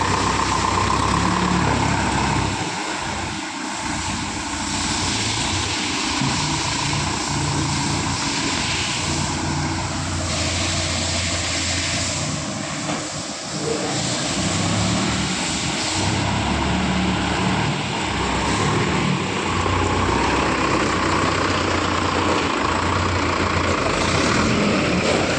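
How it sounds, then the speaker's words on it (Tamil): A Mahindra Yuvo Tech Plus 585 DI tractor driven in 2025 form, its diesel engine drones steadily and loudly throughout, a constant mechanical hum with slight variations and no speech. "வண்டியை வந்து இப்போது ஓட்டி பார்க்குறோம்"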